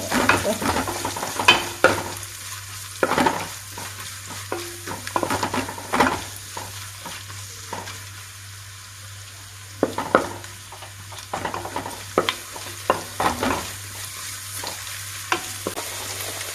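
Onions frying in a pan for ghee rice, with an even background sizzle broken by repeated sharp scrapes and clinks of a spatula stirring against the pan, close and with no voices.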